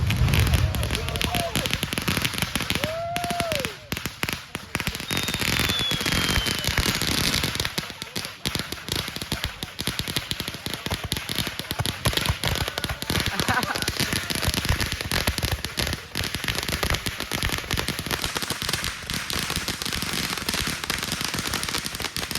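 Fireworks go off at a 4th of July backyard show in a dense, crackling barrage. Rapid pops and sharp cracks come with a couple of rising whistles early on, and the noise continues for over twenty seconds.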